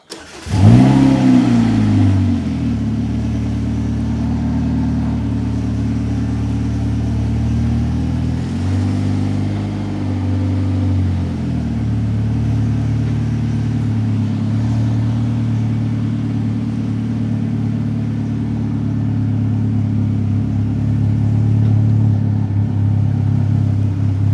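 A car engine starts and revs, then drones steadily as the vehicle drives on, with occasional shifts in pitch as it accelerates, loud and close.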